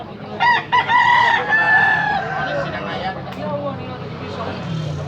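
A rooster crows loudly and close at a fowl sale, one full crow followed by clucking, with people talking and a vehicle in the background.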